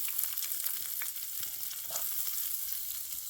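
Onions sputter in hot oil in a pan for a village chicken liver fry, a dense continuous sizzle up close with faint stirring scrapes and no speech.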